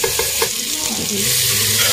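Fish pieces frying in a pan with vegetables such as taro and potato, a close continuous sizzle with a few stirring clicks at the start.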